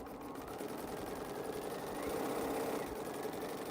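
A sewing machine stitching quilt pieces runs as a faint, continuous motor buzz with a fine rapid pulse, steady for a few seconds with no talking.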